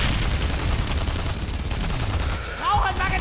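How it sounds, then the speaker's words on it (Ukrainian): Gunfire in the video game Enemy Front rattles in a steady burst over battlefield noise, with a player talking over it. "він все ж таки вистрілив. Все ж таки постріл"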